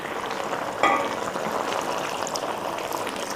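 Water poured into a pan of simmering beef and tomato sauce, with a brief splash over a steady, close bubbling sizzle.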